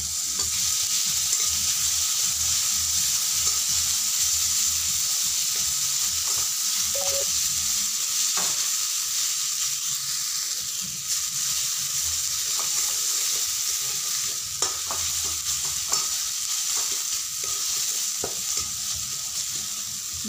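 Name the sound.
ginger and garlic frying in a pan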